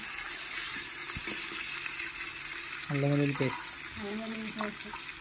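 Ingredients for vegetable pulao frying in a pan, giving a steady sizzle with brief clinks and tonal voice sounds over it, as people talk in a home kitchen.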